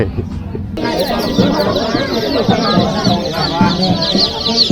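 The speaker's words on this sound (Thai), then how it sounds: "ไก่น้อยค่ะ" Chickens at a market in Thawat Buri, Roi Et, Thailand cluck steadily, many birds close together in a busy, continuous chorus, loud and near.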